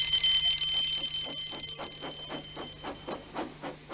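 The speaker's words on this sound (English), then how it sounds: "Soon came the alarms." Alarms ring out in a Thomas the Tank Engine model railway scene, a loud high-pitched electric ringing that fades as a rhythmic steam-engine chuffing picks up beneath it, with no voices.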